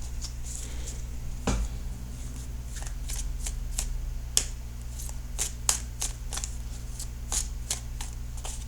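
Tarot cards are shuffled by hand in a close, steady run of crisp riffling flicks and soft slaps, repeating in an irregular rhythm over a low constant hum, with no talking.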